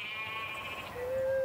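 A sheep bleats in the open countryside of western Ireland, a faint, drawn-out call over a tonal background hum that grows louder toward the end.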